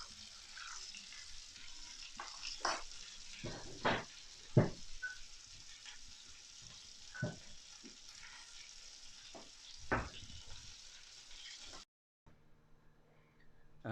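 Lamb chops sizzle in a cast iron pan with a steady, moderate frying hiss. Sharp spits and crackles break through now and then, and the sound stops abruptly near the end.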